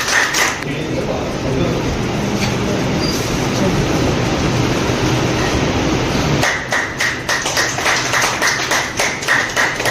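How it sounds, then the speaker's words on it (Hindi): A single woman claps her hands alone in an auditorium at a book launch in Bareilly, a dense steady patter of claps with other voices speaking over it. "मैं अकेले ताली बजा रही हूँ।"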